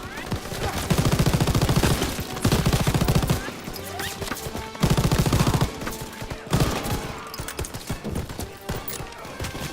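Machine-gun bursts from a Call of Duty WWII D-Day battle, loud rapid rattling volleys in several long stretches separated by brief gaps, with scattered single shots and voices mixed in.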